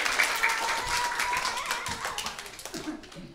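A brief burst of clapping from a kindergarten crowd fades out over a few seconds, with scattered taps and a faint voice near the end.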